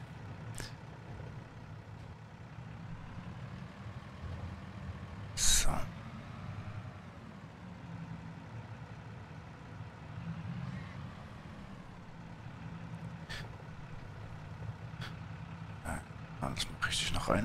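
In Farming Simulator 22, a truck maneuvers and reverses with a steady low engine drone and a brief air-brake hiss partway through, while someone talks over it.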